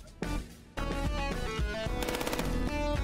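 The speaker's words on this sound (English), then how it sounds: "What is this, a Gatling gun?" Rapid, rattling Gatling gun fire from the video game FPS Chess, sounding in loud dense bursts with a brief gap before a long continuous stream of shots.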